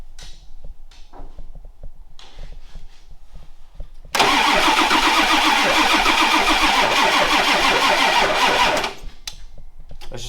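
A 1977 Ford engine cranks briefly and catches, then runs at a loud, rough, steady idle for several seconds before cutting off abruptly, with quiet talk and shop noise before and after.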